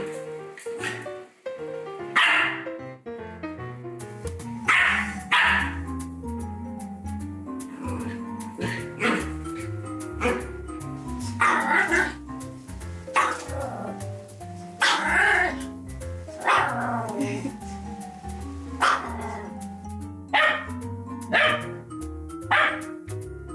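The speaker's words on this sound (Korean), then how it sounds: "그래서 거울 보고 막 짖어요." Dog barking at its own reflection in a mirror, a series of loud, close yips and barks scattered through the stretch over steady background music.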